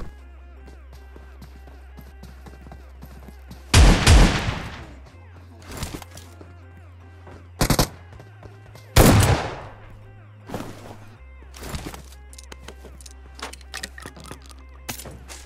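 Shotgun blasts ring out in a battle royale video game, with a few sharp, loud shots spaced seconds apart over a low engine hum and small clicks.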